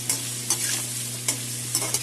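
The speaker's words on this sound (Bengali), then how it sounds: "এগুলো ভাজা হবে" Vegetables sizzle steadily in a pan while a spatula scrapes and stirs in quick, irregular strokes, close by over a low hum.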